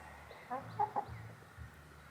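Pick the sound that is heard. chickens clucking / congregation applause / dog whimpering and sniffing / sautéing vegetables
chickens clucking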